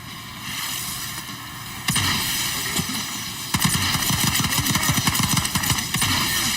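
Gunfire in Call of Duty Black Ops 6, a few scattered shots followed by a rapid burst of automatic fire over a constant hum of game sound, loud and close.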